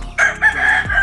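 A crossbred gamecock calls loudly and close in one short, harsh burst, more like a crow than soft clucking.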